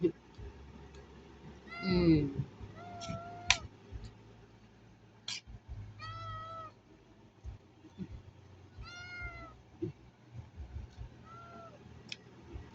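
A cat meows several times in short, separate calls, close by in a quiet room, with soft clicks and a few murmured words between.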